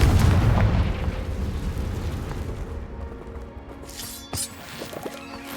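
A Confringo spell explosion in the video game Hogwarts Legacy booms loudly at the start and rumbles away over several seconds, followed by lighter magical chimes and clatter.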